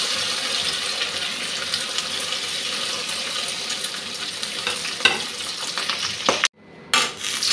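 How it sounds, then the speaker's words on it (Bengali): Chicken pieces coated in egg and cornflour fry in a pan, a dense steady sizzle with a brief louder spatter near the end as they are stirred. "চিকেনগুলো আমি এখন ভেজে নেব।"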